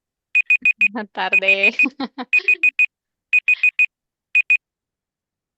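A beeping alarm goes off in repeated quick bursts of bright electronic beeps, stopping and restarting several times, loud and close, with people talking over part of it.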